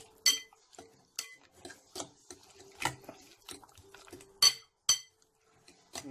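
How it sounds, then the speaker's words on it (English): Chicken being mixed with paprika in a bowl, with a string of close, sharp clinks and ticks from utensils against the bowl repeating irregularly through the quiet background. "Let's mix the paprika here"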